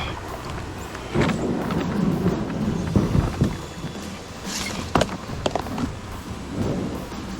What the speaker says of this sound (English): it's starting to rain already